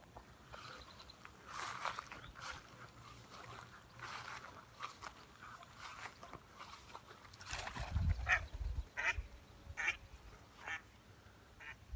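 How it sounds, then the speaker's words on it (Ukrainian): Scattered duck quacks outdoors, faint to moderate, over soft rustling and a few thumps and footsteps, with no talking. "Ось тут качки."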